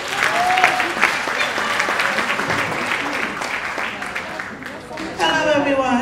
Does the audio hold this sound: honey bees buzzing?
no